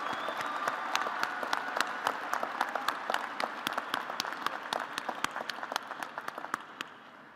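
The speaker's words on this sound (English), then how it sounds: "Let us applaud those candidates from the College of Architecture and Urban Studies." A commencement audience at a Virginia Tech fall graduation claps for graduating candidates from the College of Architecture and Urban Studies, sustained crowd applause with sharp individual claps popping out near the microphone across the whole stretch.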